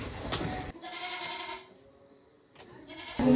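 Goats bleat in a rural village yard, a few short calls at close range with quiet gaps between them and no talking.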